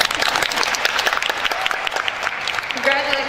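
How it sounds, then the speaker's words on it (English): An audience at a spelling bee awards presentation claps for a finalist, a moderate round of applause with distinct individual claps and some cheering voices mixed in. "Applause."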